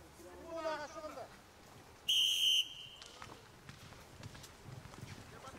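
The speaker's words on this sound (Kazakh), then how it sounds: "Төрешінің ысқырығы болды." At a kokpar horseback match between Karaganda and Uzynagash, a referee's whistle gives one sharp half-second blast midway, preceded by a shout, over faint outdoor crowd noise and hoofbeats.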